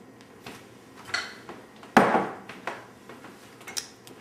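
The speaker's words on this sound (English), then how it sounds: "So we're going to put it in a serving bowl." Food going into a white china serving bowl in a home kitchen, with scattered light clinks and taps, then one sharp knock of a utensil against the bowl midway, followed by a few softer scrapes and clinks.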